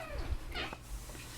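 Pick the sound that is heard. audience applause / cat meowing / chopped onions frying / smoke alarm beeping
cat meowing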